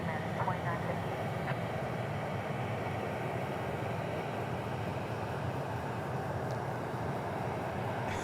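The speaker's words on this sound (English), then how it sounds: "So this plane is American 2958 going to the West Coast" An American Airlines jet at DFW airport makes a continuous low engine rumble and broad roar that holds steady in the distance. People talk over it.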